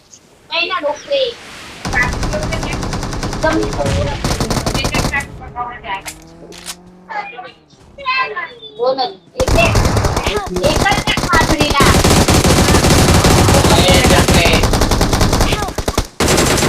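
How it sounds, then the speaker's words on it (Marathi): Loud bursts of machine gun fire from the video game BGMI come in long sustained volleys, broken by a stretch where voices talk excitedly, then the shooting resumes heavily. "गोळ्या सुटल्या गनच्या"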